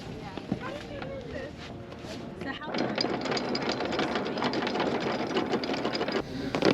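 Sailboat anchor chain being let out, a loud rattling clatter of chain links starting after a quieter stretch and running steadily near the mic, with people talking over it.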